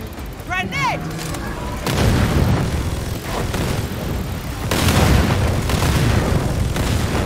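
Grenade blasts in the shooter game Second Extinction, two heavy booming bursts that rumble on loudly after an earlier chirping effect, with the din of combat throughout.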